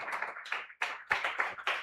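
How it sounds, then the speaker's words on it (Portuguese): A church congregation claps during a service, loose bursts of hand claps in an uneven rhythm with brief gaps between them, fairly close and moderately loud. "Então, por favor, desocupe as tuas mãos e vamos aplaudir."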